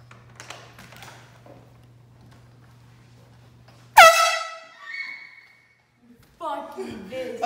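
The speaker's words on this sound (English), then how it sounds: "this air horn, it's not a regular air horn. It's made for boats. So it's like really loud." A loud marine air horn made for boats fires in one sudden, piercing blast at a drive-thru, then cuts out, followed by a second horn burst amid talk and a low idling engine hum beforehand.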